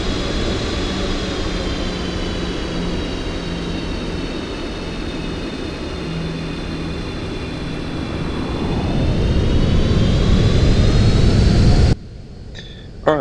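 A Boeing 777F in the Aerofly flight simulator drones with a steady, loud jet engine roar and high whining turbine tones, rising slightly before cutting off abruptly near the end.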